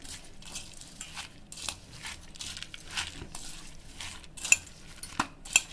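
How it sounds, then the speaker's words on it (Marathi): Mumbai-style Chinese bhel is mixed in a bowl, producing soft crunchy rustling and scraping strokes with a few sharp utensil clinks against the bowl, quiet and close. "मित्रांनो, आता आपण याला छान प्रकारे असं मिक्स करून घेऊया."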